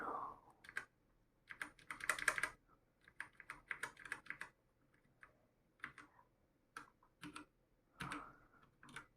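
Typing on a colourful backlit computer keyboard comes through as bursts of close, crisp key clicks with short pauses between runs, with no talking.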